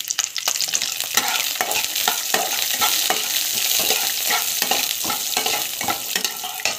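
Chana dal sizzling in hot oil with mustard seeds and cumin, stirred steadily so the spoon scrapes the pan in frequent clicks over a continuous close frying hiss, with no voices.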